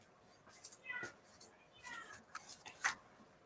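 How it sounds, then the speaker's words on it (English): A cat meows indoors several times, faint and a little distant, its short cries spread across the clip over quiet background noise. "I hear a cat somewhere."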